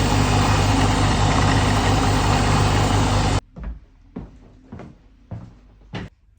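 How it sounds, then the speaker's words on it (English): A small mini band machine trims around the edges of a shoe sole, giving a loud steady grinding whir for about three and a half seconds that cuts off abruptly, followed by a few scattered knocks and handling sounds. "coming over to the mini band, just to trim around the edges and give it a nice uniform edge"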